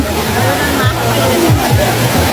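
Wang Kan Lueang waterfall in Lopburi, Thailand: steady rushing, splashing water fills the scene at close range, with a voice talking over it.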